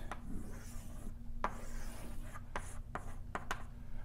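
A pen or chalk scrapes and rubs across a board as a diagram is drawn in a mathematics lecture on surfaces and manifolds, giving short scratchy strokes with brief pauses over a steady room hum, with no talking.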